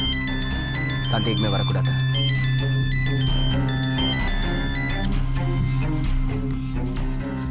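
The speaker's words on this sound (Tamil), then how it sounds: "மான்சியோட அம்மா தான் கால் பண்றாங்க." An incoming call's ringtone plays as a steady melodic tone pattern throughout, loud and continuous, with a person speaking over it in Tamil during a TV drama scene.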